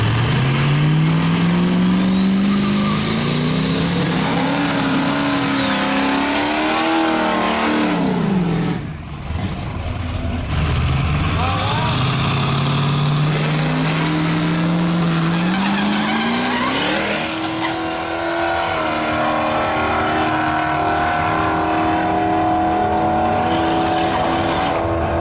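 Wyatt's 1200-horsepower four-wheel-drive diesel truck launches and smokes its tires. A loud, close engine roar rises in pitch over a sustained tire screech, dips briefly, then builds again and continues for about twenty-five seconds.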